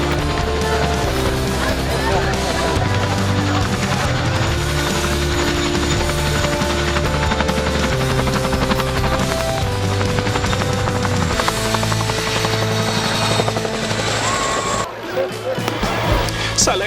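A display aircraft flying at the Manchester airshow gives a loud, steady rotor-like roar with mechanical chopping throughout, and a commentator talks over it on the public address.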